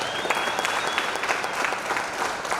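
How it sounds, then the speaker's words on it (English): Applause from an audience at a mayoral customer service lecture, dense sustained clapping from many hands at an even level throughout. "Can we give them a round of applause?"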